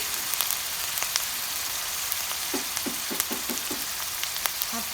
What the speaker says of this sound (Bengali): তারপর এর মধ্যে আমি 1 চা চামচ আদা রসুন পেস্ট দিয়ে দেব।